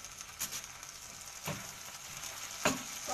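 A spatula stirs chicken with hot sauce in a pan: a quiet, steady sizzle with a few scraping strokes spaced apart, fairly faint and with no talking.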